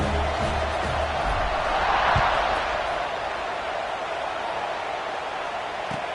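Football stadium crowd roaring before a kickoff, a dense wall of cheering that swells slightly near the middle and then holds steady, with a few thumps low in the mix.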